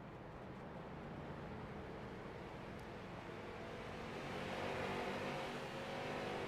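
Race cars finishing a heat race at Oxford, a dense continuous roar of several engines at a distance, swelling louder near the end as the pack passes closer.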